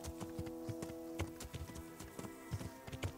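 Horse hooves clip-clopping in the medieval video game Kingdom Come: Deliverance, a quick, regular trotting rhythm of sharp hoof strikes over a steady low musical drone, continuous for the whole stretch.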